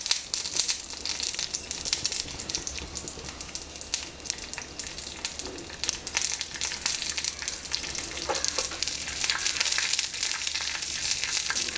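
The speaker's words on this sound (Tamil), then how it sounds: "தேங்காய் எண்ணெய் சூடானதும் கடுகு போட்டுருங்க." Mustard seeds sputtering in hot coconut oil for a Karnataka-style tempering with a little dried red chilli, a steady close crackle and sizzle of frying with dense pops throughout and no talking.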